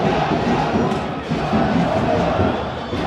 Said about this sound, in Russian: Вот и болельщики Армении появились наконец-то.